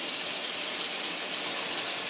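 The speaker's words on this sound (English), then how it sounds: "I'm pouring water on it." Water is poured onto a plugged-in, lit-up Masione backlit gaming keyboard, a steady, close, hissing splash that runs unbroken for about two seconds with no talking.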